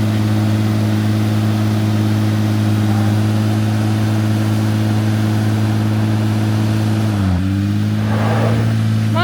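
A car engine revs hard and holds high while a stuck rear wheel spins in place on a rough road in Costa Rica. The steady engine drone is loud and close and shifts briefly near the end.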